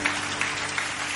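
Church congregation clapping in praise during a worship service, a short steady burst of dense applause filling the room.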